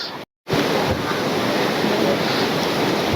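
Sea waves wash against the rocks below a coastal rock temple in Trincomalee, heard as a loud, continuous roar with wind buffeting the microphone and a brief dropout near the start.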